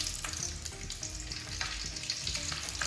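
Green chillies drop into hot oil, giving a continuous crackling sizzle with scattered pops and light stirring clinks, fairly quiet and unbroken by talk.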